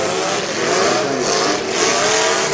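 A demolition derby car with a failing engine that is coming apart inside roars loudly and continuously at a county derby, a harsh, grinding, raspy blare with no talk over it.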